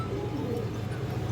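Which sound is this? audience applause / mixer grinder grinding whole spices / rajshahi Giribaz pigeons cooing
rajshahi Giribaz pigeons cooing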